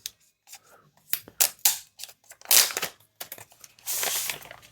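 A Geekom XT12 Pro mini PC is unpacked in short bursts of crinkling, rustling packaging and sliding cardboard, close and fairly quiet, with brief pauses between handling sounds.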